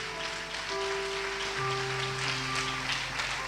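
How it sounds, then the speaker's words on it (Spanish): Church congregation applauding during a sermon, a steady wash of clapping from a large audience with sustained organ-like tones beneath it. "Denle un aplauso al Señor."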